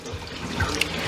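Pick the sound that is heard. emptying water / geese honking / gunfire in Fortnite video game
emptying water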